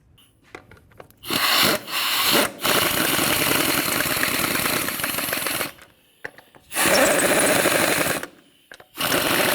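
Lug bolts are run into a 2007-2013 Mini Cooper wheel with a power tool, heard as several loud, close, rattling bursts separated by short pauses.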